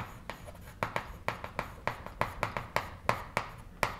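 Quick rhythmic strokes of chalk or marker writing on a board, a steady run of close taps and scratches roughly every third of a second, with no voices.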